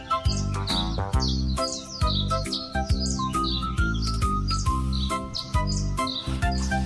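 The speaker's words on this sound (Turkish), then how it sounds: "Serçelerin sesini duymuş. Serçeler yeni şarkılar besteliyor sanki." Sparrows chirp in quick, repeated bursts of bright tweets over a loud, steady musical backing, with no talk.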